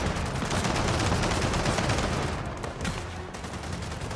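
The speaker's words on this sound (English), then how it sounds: "He's just shooting at me." Rapid automatic gunfire in the shooter Gears of War 4, a dense, continuous hail of shots filling the whole stretch, loud and close with no speech.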